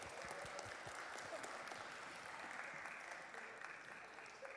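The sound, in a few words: church congregation applause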